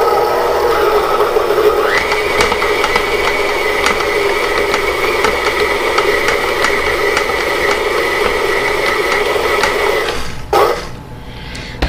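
An electric mixer whirls chocolate batter in a bowl, a steady close motor whine with a rattling drone that holds evenly for about ten seconds, then cuts off abruptly.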